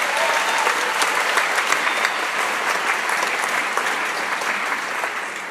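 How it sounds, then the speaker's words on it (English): A sustained round of applause from a full crowd at the Directing Change 2016 award ceremony honours the filmmakers. It is dense, even clapping that eases off slightly at the very end. "One more round of applause for our filmmakers."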